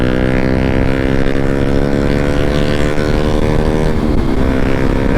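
A motorcycle with an open muffler rides along on a Sunday road ride in Negros Occidental, its loud, steady engine drone climbing and falling slightly in pitch with no talking.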